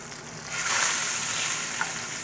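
A fish fillet with crispy skin, just flipped, sizzles steadily in a hot pan, a close, even hiss with a slight swell early on and no talking.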